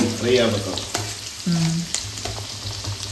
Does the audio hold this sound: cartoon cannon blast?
no